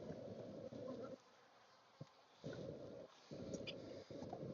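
Bees from a rooftop hive drone in a steady low buzz that swells and drops in loud bursts, broken by short quieter gaps with a faint background hum.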